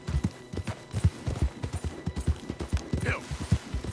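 Horse in Red Dead Redemption II gallops, a quick rhythmic run of hoof thuds, close and steady, with a brief breathy snort near the end.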